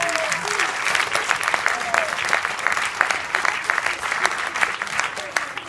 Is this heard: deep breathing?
no